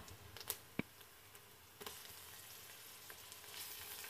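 Onions and garlic-ginger paste fry quietly in a pan, a faint soft sizzle broken by a few light clicks of stirring.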